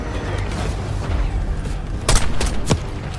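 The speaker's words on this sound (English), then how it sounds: "We gotta stop those mortars." Mortar fire during a Call of Duty Black Ops 6 campaign battle: a steady low rumble of distant fire, then two or three sharp blasts near the end.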